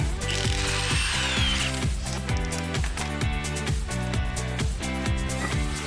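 Hand tools and a power tool work on an ATV wheel to remove it, with steady ratcheting and mechanical whirring running through in a rhythmic, repeating pattern at close range, no voices.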